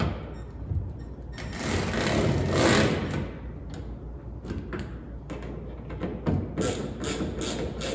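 A size 4 Allen key turns bolts on a polycarbonate window mount in an off-road vehicle's roll cage, giving a close run of ratcheting clicks and scraping with plastic creaks and rattles, with no talk over it.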